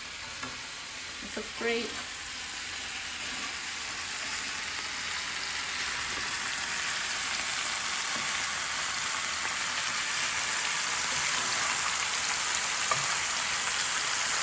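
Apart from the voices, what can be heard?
vegetables being turned and stir-fried in a pan for japchae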